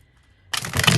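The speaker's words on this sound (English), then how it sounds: "Just gonna shuffle one more time" A deck of tarot cards is shuffled close up, a sudden burst of rapid riffling that starts after a short silence and continues to the end.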